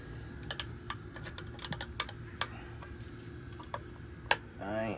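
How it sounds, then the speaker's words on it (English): A wrench backs off bolts on an engine during a build, making a series of light, irregular ratcheting clicks over a low steady background hum, ending with a short murmur at the end. "Back off on my bolts a little bit."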